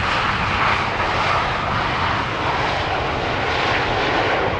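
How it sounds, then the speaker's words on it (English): KLM Boeing 737 jet airliner at Schiphol Airport, a loud continuous engine roar that stays steady and dense throughout, heard alone without voices. "this is a 737 from KLM"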